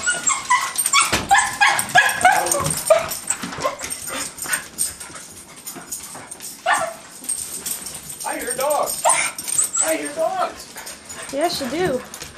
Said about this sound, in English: I hear dogs.